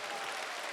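An audience at a Korean workplace mission academy gathering applauds in a brief, dense burst of clapping from many hands.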